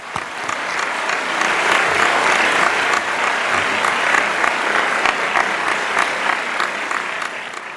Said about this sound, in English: Let's give a warm applause to welcome Spring Melody Chorus.